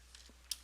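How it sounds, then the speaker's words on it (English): Keystrokes on a computer keyboard while a file path is entered during a Windows Server lab, heard as a few faint, scattered clicks with a sharper pair near the end. "We're going to type in a C://"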